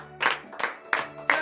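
Four distinct claps in a slow, steady rhythm from a congregation during morning prayer, fairly close, with a faint sustained tone in the background.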